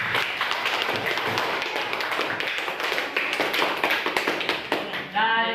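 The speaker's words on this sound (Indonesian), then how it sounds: "Tepuk tangan buat kelompok 3." A classroom of students clapping for a presenting group, a lively, uneven patter of many hands with individual sharp claps, voices mixed in beneath and a brief tonal sound near the end.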